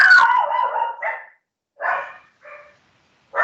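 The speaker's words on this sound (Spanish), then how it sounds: "si están escuchando a mis perritas ladrar es porque están peleando con el enemigo" Several female dogs barking and yelping loudly nearby, a long agitated burst followed by shorter separate barks with pauses between them.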